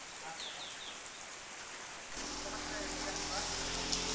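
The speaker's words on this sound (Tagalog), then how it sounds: "It's still raining." Steady rain falling and pattering on surfaces, a dense continuous wash of drops that grows heavier and fuller partway through, with faint birds calling in the background.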